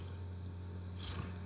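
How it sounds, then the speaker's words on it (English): A soft, steady cat purr rumbles low and close throughout, with a faint wet lip-smacking near the end. "You might be able to hear her purr and lick her lips."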